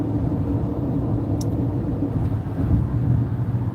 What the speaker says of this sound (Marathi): चालल्यात गाड्या इकडे तिकडे कुठेतरी